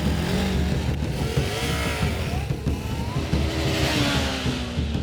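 A Honda CB500 and a Yamaha MT-07 launch off the line at the start of a race, their engines revving loudly with rising, overlapping pitch as they accelerate away.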